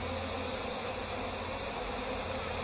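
A honeybee colony hums steadily during requeening, a dense continuous buzz close by with no voices.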